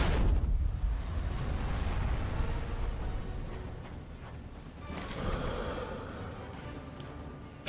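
A tank blowing up in the video game Sniper Elite V2: a heavy, rumbling detonation opens loud and slowly fades into a lingering low roar, with a smaller swell of debris-like rumble near the end and no voices.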